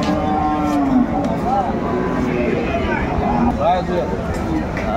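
At a crowded cattle market in Aftabganj selling cows with calves, several long, wavering moos rise from nearby cattle. They come in loud bursts over a constant hubbub of people talking.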